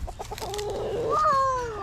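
A rooster in a homestead coop gives a short run of clucks that rises into a loud, drawn-out crowing call, heard close and alone.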